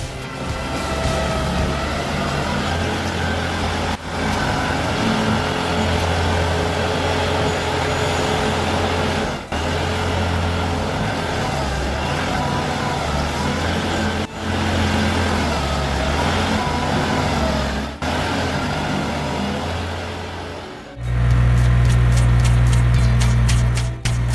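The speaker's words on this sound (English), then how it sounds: "The crushing power of the SG-75 stump grinder is absolutely mind-blowing." An SG-75 stump grinder runs at a steady heavy engine drone, loud and close, with brief dips as it bites into a stump, then a harsher, louder roar surges near the end.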